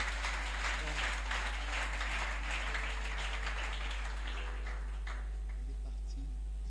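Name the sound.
congregation applauding loudly for the Lord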